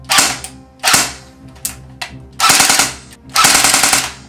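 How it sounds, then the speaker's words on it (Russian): An UMAREX G36CV airsoft rifle fires on full automatic in a sequence of loud, close rattling bursts, with short gaps between them and longer bursts toward the end. "При ведении автоматической стрельбы, я попытаюсь вам это показать."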